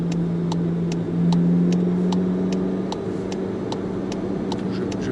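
A 2018 Volkswagen Polo 6 GTI in full sport mode holds a steady engine drone inside the cabin, rising slightly in loudness around the second second, with a regular ticking running underneath throughout.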